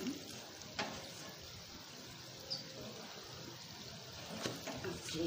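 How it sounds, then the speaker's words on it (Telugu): Veg manchuria balls deep-frying in oil for a restaurant-style dish give a faint, steady sizzle with a few soft pops and clicks scattered through. "కొద్దిగా బ్రౌన్ కలర్ వచ్చే వరకు మనం ఫ్రై చేసుకోవాలి"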